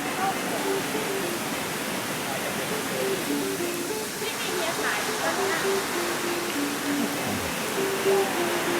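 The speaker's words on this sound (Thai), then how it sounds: "ตรงนี้มีน้ำตก" Kwang Si waterfall's rushing water, a loud, steady broadband roar close by, with people talking faintly over it.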